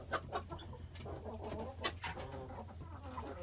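Speckled Amrock hens, about six months old, cluck softly in a barn, with several overlapping short calls over a steady low hum.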